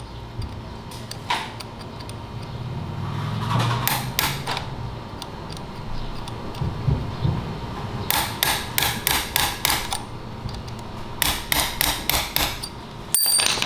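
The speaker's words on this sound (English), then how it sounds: "could also grab a little punch or a screwdriver, punch that sucker out." A hammer drives a punch to knock out a drive chain pin, giving sharp metallic taps in quick rhythmic bursts close by, with quieter clicks and creaks between strikes and no speech.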